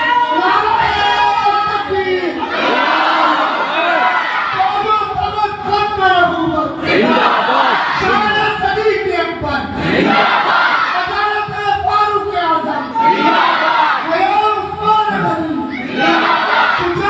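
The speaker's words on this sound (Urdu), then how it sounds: "حضرت کے آمد سے پورے نعرے سے سب کا استقبال کیجیے." A large crowd at a religious gathering chants slogans in unison to welcome a speaker, loud rhythmic group shouts rising and falling in repeated waves.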